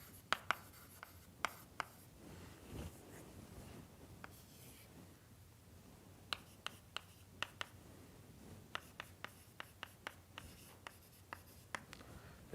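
Marker or chalk writing notation on a board during a doctoral numerical methods lecture, a run of short sharp strokes and taps spread across the clip, close and fairly clear over a quiet room.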